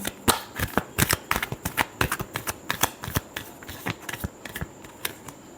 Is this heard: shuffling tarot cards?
yes